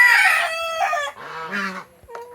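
A seven-month-old crossbreed heritage rooster, Red Island Red crossed with Black Hasselhawk, crows loudly and close by in a single strained call, followed by a short cluck from the flock.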